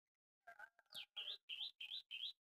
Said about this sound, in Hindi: आवाज़ आ रही है आपकी चिड़ियाओं की चूहू चूहू चूहू चूहू तरह तरह की